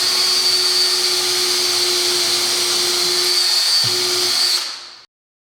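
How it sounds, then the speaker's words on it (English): A power drill whines at a steady high pitch for several seconds while pre-drilling holes in a miter saw stand, then cuts off abruptly into silence. "Now it's just a matter of pre-drilling."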